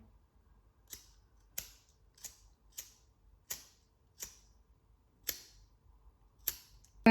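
Scissors snip through shoe-making material in eight sharp, separate cuts spaced about half a second to a second apart, crisp and close in an otherwise quiet room.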